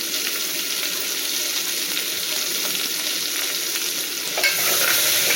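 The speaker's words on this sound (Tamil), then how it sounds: "பீர்க்கங்காயை சேர்த்துட்டு நம்ம வந்து நல்லா கலந்து விட்டுடலாம்." Chopped ridge gourd frying in a pan for a kootu side dish, a loud, dense sizzle and hiss with stirring, close and continuous, swelling slightly near the end.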